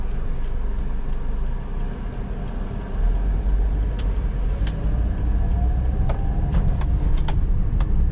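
A 2007 Perodua Myvi 1.3 SE automatic rolls along slowly, with a steady low engine hum and road rumble from inside the car, plus scattered small clicks and faint creaks, loud and close with no talking.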